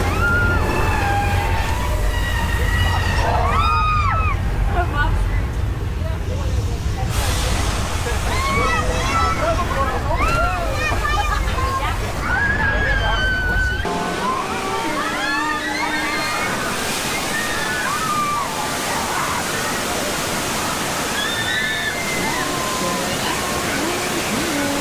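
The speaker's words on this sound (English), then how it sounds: "That's recycled water being released from tanks at the top of the hill." A flash flood effect at Universal Studios releases recycled water from hilltop tanks in a loud rushing, sloshing torrent that fades after midway, while a tour guide speaks and crowd voices chatter throughout.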